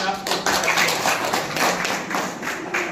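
Nursing college students clapping in a room, a dense, continuous patter of many hands that holds steady for several seconds, fairly loud and close.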